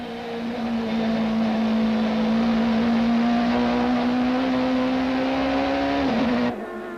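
A 1995 super touring race car, among Audi and Nissan Sentra entries at the Kyalami circuit, holds a loud, sustained engine drone at high revs for several seconds, then the pitch drops sharply as it lifts off near the end.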